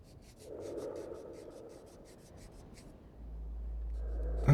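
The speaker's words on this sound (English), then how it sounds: "Let's try some sandpaper." Soft, steady rubbing of sandpaper scrubbing off stubborn brown varnish-like bits, a faint continuous rasp with a low hum rising near the end.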